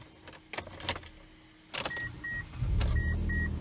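Keys jangle briefly, then a Mitsubishi Lancer engine cranks and catches, settling into a low, steady idle close by while a faint chime beeps repeatedly.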